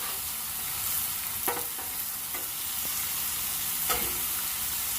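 Beef patties seasoned with kosher salt fry in a hot pan, giving a steady close sizzle with a few sharp crackles and pops scattered through it.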